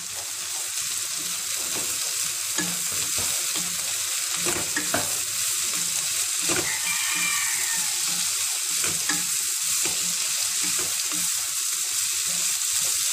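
Vegetables and tomato frying in a pan for vegetable fried rice, a loud continuous sizzle with scattered scrapes and taps of stirring.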